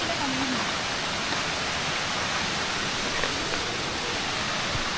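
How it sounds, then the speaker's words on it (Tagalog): A small waterfall in Palawan gives off a constant, close, broadband rush of falling water with no change through the stretch. A brief voice is heard near the start. "Mini falls."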